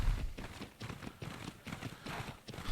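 Rapid clip-clop of horse hooves at a gallop in the video game Ark Survival Ascended, a fast steady rhythm close up with no voices.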